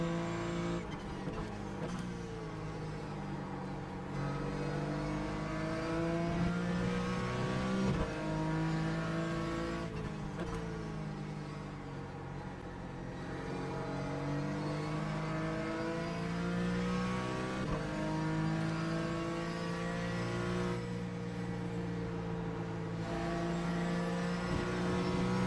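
Porsche race car engines in the iRacing simulator at the Nurburgring, a continuous loud engine drone with rising and falling revs through gear changes, sustained throughout with no talk.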